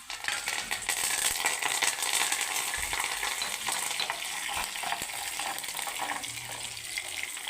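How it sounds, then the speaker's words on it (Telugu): Curry leaves tossed into browned onions in hot oil for dal, a loud steady sizzle and crackle close up with a few stirring clinks, no voices. "ఇప్పుడు ఇందులో కరివేపాకు వేసేసుకుందాం"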